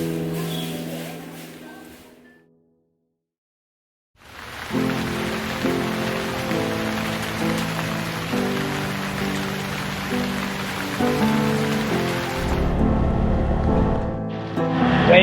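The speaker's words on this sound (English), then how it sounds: "It has been raining since yesterday" Steady rain falls on an island near Bali, a dense even patter that starts after a short silence and continues throughout, with background music playing alongside.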